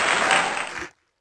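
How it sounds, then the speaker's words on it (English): Audience applause for a speaker named Yocheved at a church gathering: a dense burst of clapping that runs loud and steady for under a second, then stops abruptly into silence. "Another round of applause for Yocheved."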